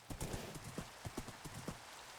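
A horse's hooves clip-clopping at an easy walk, a quick run of distinct thuds in irregular rhythm, faint and fairly close, with no talk.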